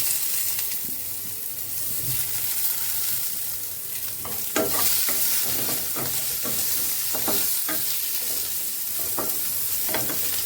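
Eggplant and green chillies fry in a pan of oil for a katla fish curry, a steady close sizzle with repeated sharp stirring scrapes and spatters in the second half.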